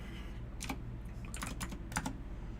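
Quiet, close typing on a computer keyboard: a few scattered, irregular clusters of key clicks over a steady low background hum, with no talking.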